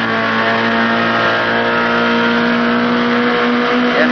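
A Datsun B sedan Trans Am race car accelerates hard out of a fast 180-degree sweeper, its engine note loud, close and steady as it pulls through third gear and shifts into fourth.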